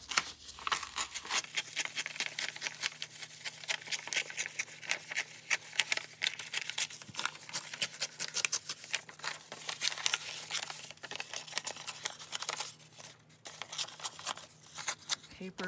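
A brown paper bag being torn and ripped by hand for a collage, a close, continuous run of crisp crinkling, tearing and rustling bursts with an irregular rhythm and no voice.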